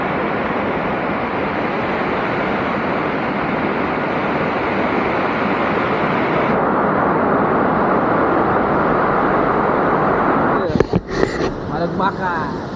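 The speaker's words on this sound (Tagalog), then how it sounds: "welcome to Panagbakan Falls in San Agustin, Surigao del Sur" Panagbakan Falls waterfall in San Agustin, Surigao del Sur, a loud, steady broadband rush of falling water filling the scene, with a few brief handling bumps near the end.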